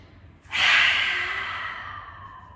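A single long exhale through the mouth during a yoga breathing exercise for releasing anxiety, starting abruptly and fading slowly over about two seconds, close and fairly loud.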